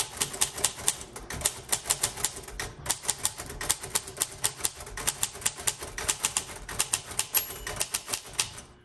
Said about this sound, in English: I love the sound of the, of the tick, tick, tick of this particular typewriter